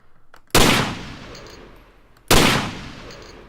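An Enfield WWI rifle in Garry's Mod (Half-Life 2) fires two loud, sharp shots about two seconds apart, each cracking hard and then fading in a long ringing tail.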